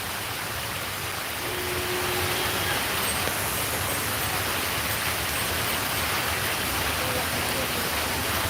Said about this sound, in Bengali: বৃষ্টিটা বাড়ছে।